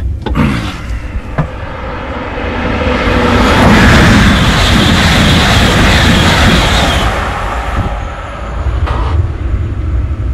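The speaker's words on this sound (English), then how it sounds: "X2000 passing by in 200 kilometers an hour." An X2000 high-speed passenger train in Sweden rushes past at about 200 km/h, its roar swelling to a loud peak midway, then fading as it recedes.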